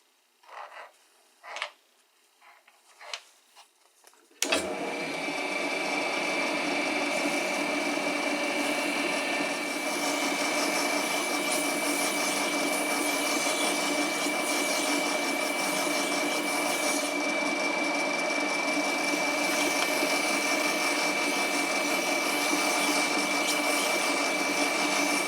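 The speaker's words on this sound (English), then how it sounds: "I'm going to polish the axles using high grit sandpaper ranging from 600 to 2000 grit." Metal derby car axles polished with high grit sandpaper, 600 to 2000 grit: after a few short scraping strokes, a steady loud whirring drone with a high tonal whine runs continuously, as if the axle spins against the paper.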